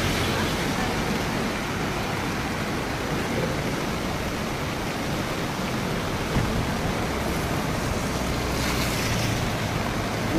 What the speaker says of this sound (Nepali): अब अहिले यो भिडियो बनाइराख्दा खोला निरन्तर बढ्ने क्रममा रहेको छ